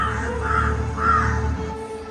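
Crows cawing in a garden, two or three harsh caws repeating close by over a low steady background hum, with no talking.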